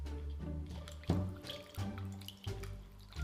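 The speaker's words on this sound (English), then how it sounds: "So guys, time to wash our hands." Running tap water while someone washes their hands, a close, continuous splashing trickle with uneven bursts as the hands move under the stream.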